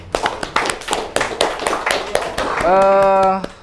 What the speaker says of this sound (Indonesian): Tepuk tangan lalu buat Tondi nih